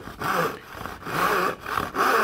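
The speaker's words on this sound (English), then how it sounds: "Now, when you're sawing, you want to almost not have any pressure on the saw handle at all and just let the weight of the saw do your cutting for you." A hand saw cuts wood for a dovetail joint in rhythmic back-and-forth strokes, about five close, gentle rasping passes with brief pauses where the stroke reverses.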